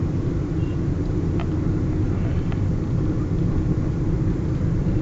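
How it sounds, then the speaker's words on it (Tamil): A vehicle travels along a road with a steady, close, low rumble of engine and tyre noise throughout, plus two brief faint ticks partway through. "நான் வண்டி இந்த ரோட்ல போயிட்டு இருக்கு"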